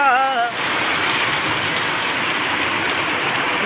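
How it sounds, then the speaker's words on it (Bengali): Heavy rain driven by gusty storm winds in Habiganj pours down as a dense, steady roar, after a brief voice at the start. "আজকে এই হবিগঞ্জের মধ্যে তুফান হচ্ছে, খুব দমকা হাওয়ায় বৃষ্টি"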